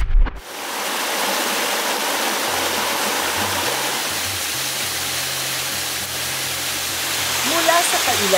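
Kusinera Falls in Pangasinan roars as a steady, dense rush of falling water that fills the scene from start to finish, with a low rumble running beneath it and a faint voice near the end.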